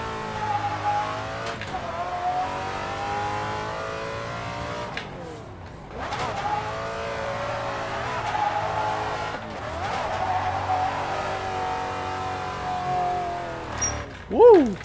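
A V8-swapped Rocket Bunny widebody Nissan 350Z drift car roars and revs in long pulls, tires squealing and shredding as it slides, with gear changes between bursts and a voice cheering briefly near the end.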